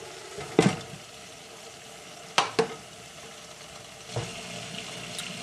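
Spare ribs frying in a pan for sweet and sour spare ribs, a steady low sizzle running throughout with a few sharp clatters of stirring or utensil knocks near the start and middle.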